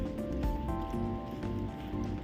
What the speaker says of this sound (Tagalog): Medyo ambon-ambon na lang.